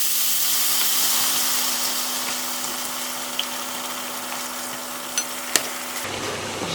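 Rice browning in a pan for a paella-style dish, with broth being added, gives a steady, loud, close sizzle that continues unbroken and cuts off abruptly near the end.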